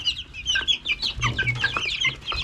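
One-month-old chicks cluck and peep steadily while eating after being dewormed, a dense flock of chirps close by with no talk.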